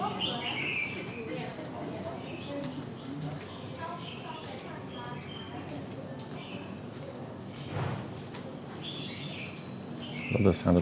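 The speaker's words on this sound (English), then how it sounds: "There's some really nice bird chirp songs here in the morning." Morning birds chirp and tweet steadily in the background, fairly faint, with a few brighter calls standing out over a constant outdoor hum, in a Hanoi neighborhood.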